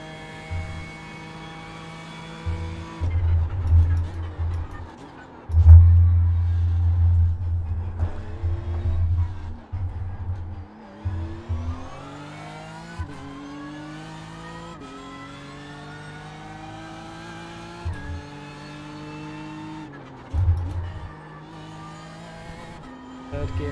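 A race car circles a practice lap, its engine rising and dropping through gear changes with repeated climbs in pitch, sharp lifts and pauses on corners, heard from inside the car at moderate level.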